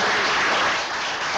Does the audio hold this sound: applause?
yes